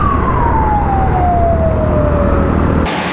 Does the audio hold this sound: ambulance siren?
yes